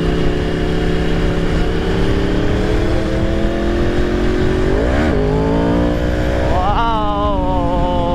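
A motorcycle engine revs loudly and steadily, the pitch climbing and surging twice as the rear tire spins, recorded up close with no one speaking.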